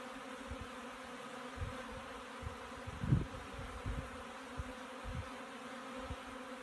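A soft, continuous buzzing of many honey bees close by, with low irregular thumps and bumps rising and falling across the clip.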